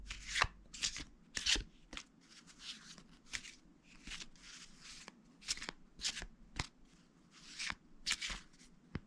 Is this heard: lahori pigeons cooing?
no